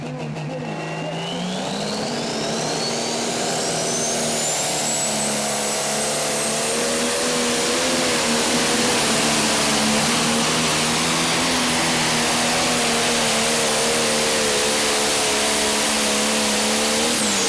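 A 10,000-pound-plus Pro Stock pulling tractor's engine roars at sustained high revs for the whole stretch, loud and droning, with a rising whine over the top, at an NTPA Grand Nationals tractor pull in Hutchinson, Minnesota.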